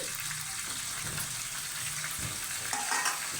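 Chicken curry with salt being stirred in a pot by a grandmother, a steady sizzling hiss with soft scraping and stirring movements throughout, no one speaking.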